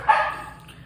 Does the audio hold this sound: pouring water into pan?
no